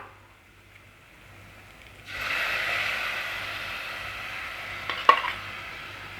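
Ground masala paste for pea and potato kurma dropped into a pan after two seconds of quiet, then a soft continuous sizzle with a sharp clink of a spoon near the end.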